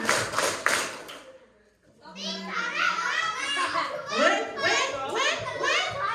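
Children at an elementary school Hari Santri gathering clap in a quick burst of about three claps, followed by a loud, busy wash of many young voices chattering and calling out.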